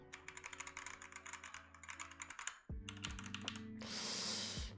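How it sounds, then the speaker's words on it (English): Keys clatter steadily on a keyboard fitted with standard plastic keycaps, a quick run of close clicky strokes, then a short pause before a denser burst of typing that ends in a rushing noise. "let's compare them now with the standard plastic keycaps"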